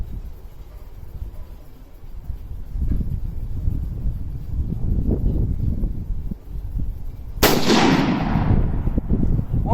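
A single sharp, loud gunshot from a PTR 91 rifle, an HK 91 clone, cracks out at an outdoor target range after several seconds of wind and low rumble, its report ringing and fading afterward.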